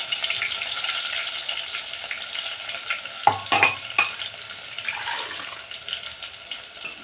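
Crushed garlic fries in hot oil with cumin seeds, a continuous crackling sizzle interrupted by a few clattering stirs and a burst of louder spattering partway through, close and moderately loud.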